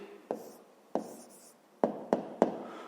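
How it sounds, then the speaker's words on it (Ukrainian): A pen writes a maths answer by hand, five short, distinct strokes against the paper, close and quiet, the first two spaced apart and the last three in a quicker cluster. "Пишемо відповідь."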